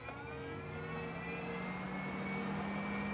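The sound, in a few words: exhaust fan running in Winnebago Travato camper van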